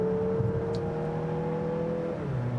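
Turbocharged engine of a 2019 Mazda CX-9 accelerating, a steady droning tone that climbs slightly, then drops as it shifts, heard from inside the cabin without talk.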